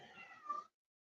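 A house cat named Juicy gives a single short, faint meow indoors, about half a second long, followed by silence.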